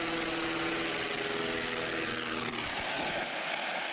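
A single-engine Beechcraft airplane drones loudly as it goes down into a multi-family home in Keene, New Hampshire. The steady engine roar breaks off abruptly near the end into a rough, fading rumble.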